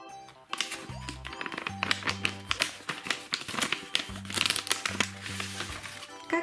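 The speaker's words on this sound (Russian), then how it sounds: "Маша, давай откроем вот этот желтый пакетик" A yellow paper surprise packet is torn open and handled, giving crisp crinkling, rustling and tapping sounds over a bouncy background melody.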